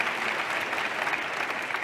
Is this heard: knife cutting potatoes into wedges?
no